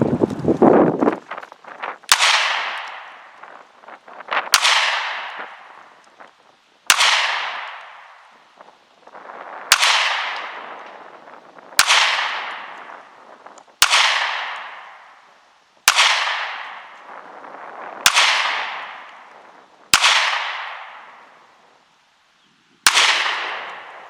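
Twelve shots from a Taurus G2C pistol fired outdoors, each a sharp loud crack followed by a long fading echo, spaced a couple of seconds apart in a steady rhythm.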